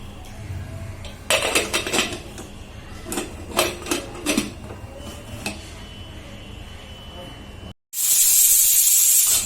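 Chickpeas cook in a pressure cooker whose whistle bursts out as a loud, sustained hiss near the end, after a stretch of kitchen clatter and dish clinks with a faint background hiss.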